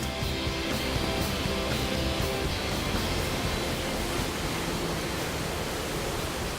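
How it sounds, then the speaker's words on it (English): Tidal water pours out of a loch through the narrow Falls of Lora channel in Scotland, a loud, dense and steady roar that fills the scene with no voices. "as the tidal waters rush out of the loch, it gets very, very loud."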